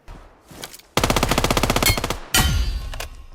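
Rapid automatic gunfire in the mobile battle-royale game PUBG Mobile, a long sustained spray of loud shots followed by another burst after a brief pause, with quieter scattered shots at the start.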